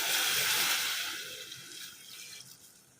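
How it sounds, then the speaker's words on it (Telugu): Water pouring from a glass into a pan of roasted chicken curry masala, a broad close splash that tapers off over a few seconds, with no talk. "ఇప్పుడు మనం 1 టీ గ్లాస్ వాటర్ యాడ్ చేద్దాం."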